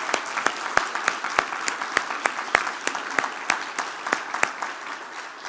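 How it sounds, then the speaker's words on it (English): A church congregation at a Sunday service claps in distinct, fairly even beats rather than a dense roar, each sharp crack standing out, for about five seconds. "Shall we applaud and celebrate this day?"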